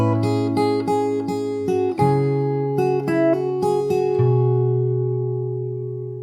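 Fingerstyle acoustic guitar plays part of a song: a steady run of plucked notes over ringing chords, close and clear, ending on a long sustained chord that fades out.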